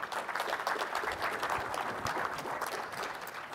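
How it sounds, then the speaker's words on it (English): A conference audience applauds after a cloud data talk, a steady, dense wash of many hands clapping that holds at even loudness throughout with no voices over it. "you don't have to clap"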